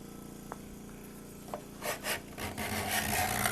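A freshly sharpened hand scraper shaves material off a wooden surface in a few short rasping strokes, with soft scraping bursts that grow denser and louder toward the end, close by.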